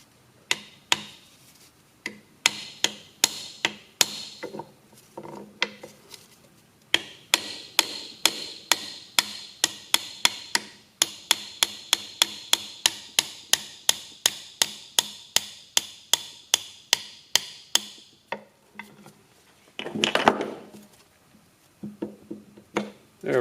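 Steel hammer blows on a wrist pin being driven out of a piston from a 1967 John Deere 4020 engine, dozens of sharp metallic strikes in a fast steady rhythm, loud and close, with a brief pause then a scraping clatter near the end.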